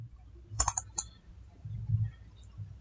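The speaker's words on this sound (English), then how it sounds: "Double click on it." Two quick mouse clicks, a double click on a computer mouse while working in Windows, sharp, close and clear with faint background between.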